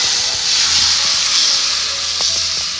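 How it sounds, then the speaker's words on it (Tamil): Palak dosa batter poured onto a hot tawa gives a loud, steady sizzling hiss close up that holds evenly throughout, with a few faint clicks and taps underneath. "நம்ம தோசை ஊற்றிக்கலாம்."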